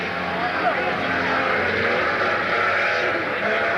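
Speedway race cars in Tasmania roaring around the track, a steady loud wash of engine noise with broadcast commentary speaking over it.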